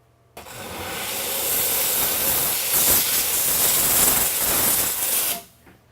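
Steam bursts from a jewelry pickle pot in one loud, steady hiss that starts abruptly, holds for about five seconds with slight surges, then cuts off sharply, heard close and alone.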